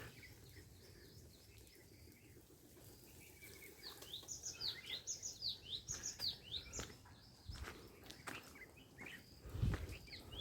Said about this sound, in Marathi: पक्ष्यांचा किलबिलाट ऐका किती शांत वाटते